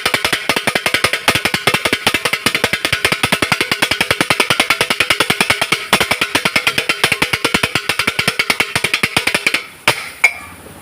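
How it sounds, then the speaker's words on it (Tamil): Metal spatulas chop chicken kothu parotta on a street-stall griddle in a fast, steady stream of sharp clanks lasting about nine seconds, then a few final strikes, loud and close with no talking. "கொத்துற சவுண்டு பார்த்தீங்களா? பரோட்டா கொத்தியாச்சு."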